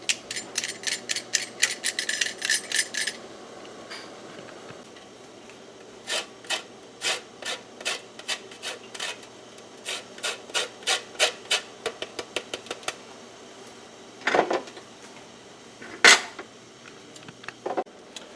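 Lime rind rasped over a fine zester for a coconut curry mussel sauce, a run of quick, crisp scraping strokes close by, rapid at first, then spaced and steady, with a couple of louder knocks near the end; no voices.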